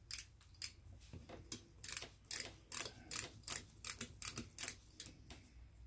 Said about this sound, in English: Just take it through as far as you can get it, because obviously the tap has got a taper on it.